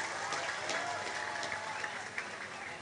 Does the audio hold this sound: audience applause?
yes